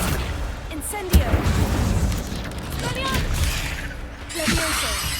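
Incendio fire spells blast in a Hogwarts Legacy fight against spiders, with a heavy boom early on and another burst near the end amid chaotic combat noise and vocal sounds.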